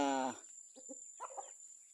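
A brief, loud harmonic squawk opens, followed by softer scattered clucks and calls from nearby chickens and ducks.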